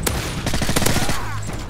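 Gunshots crack in a quick cluster in Call of Duty Modern Warfare 3, several loud, close reports firing in rapid succession before fading into a low rumble at the end.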